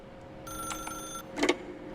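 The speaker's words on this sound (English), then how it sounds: "then pick up the phone" A telephone rings inside a video game, a short bright electronic trill sounding twice in quick bursts, moderately faint against a quiet background.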